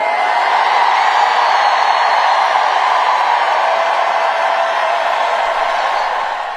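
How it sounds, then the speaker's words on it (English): A huge crowd at a Kamala Harris and Tim Walz campaign rally in Arizona roars and cheers in a dense, sustained wall of noise that stays loud throughout and eases slightly at the end. "The crowd is so loud that it's going to bust the speakers"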